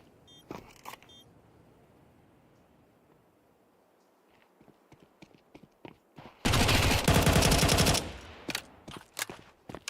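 Pistol gunfire in Counter-Strike during a PGL Astana 2025 match: scattered single shots, then a dense, loud burst of rapid fire lasting over a second, followed by more sporadic cracks.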